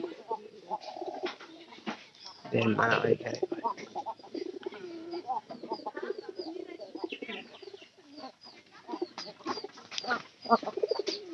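Pigeons coo from a home loft, repeated low calls mixed with bursts of fluttering and bird noise, with people talking nearby throughout.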